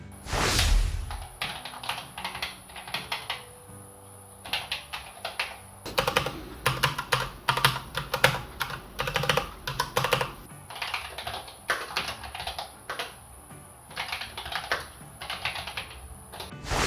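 Typing on an ROG Claymore II modular wireless keyboard with ROG RX Red optical switches and standard keycaps, a steady stream of close, crisp key clacks with irregular rhythm and brief pauses, alone without talk.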